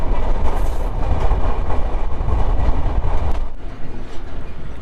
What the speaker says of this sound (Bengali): তো ফাইনালি আমাদের ট্রেন বেনাপোলে প্রবেশ করেছে